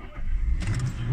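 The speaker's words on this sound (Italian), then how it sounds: "Vediamo se accende il motore." A Citroen C3 engine cranks and catches, a short low rumble rising into idle, heard close up without talk.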